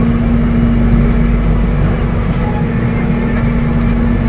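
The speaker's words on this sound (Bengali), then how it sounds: "এসি ট্রেন এটা।" Steady rumble inside an executive air-conditioned long-distance train in Indonesia, with a constant low drone and a persistent hum, loud and unbroken throughout with no talking.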